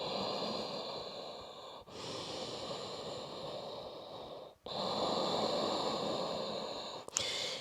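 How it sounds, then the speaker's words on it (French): Deep, long breaths during a yoga downward dog pose, slow drawn-out airy exhales and inhales with brief pauses between, close and audible with no talk. "Chien tête en bas, 5 respirations profondes, longues."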